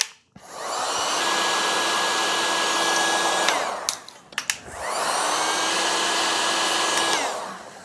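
A heat gun shrinks heat shrink tubing over repaired wiring on a 2005 GSX-R1000 motorcycle, two loud close blasts of whirring hot air with a whine, separated by a brief pause with clicks.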